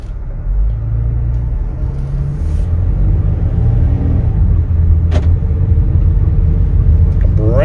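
A 2022 Ford Transit XLT 12-passenger van pulls away on a test drive, with a steady low engine and road rumble running throughout and a voice speaking over it.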